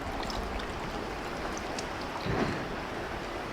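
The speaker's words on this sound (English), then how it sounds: "Just behind me is this gorgeous river and the water is really clear. I also love the noise as well." Clear river with a small waterfall in Shiobara, Tochigi, Japan: a continuous rushing, splashing flow close by, steady and broadband with occasional louder gushes, no talk.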